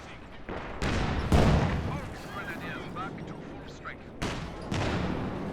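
Tank guns firing in the strategy game Company of Heroes 2, with several loud booming shots spaced across the battle, under a commentator talking.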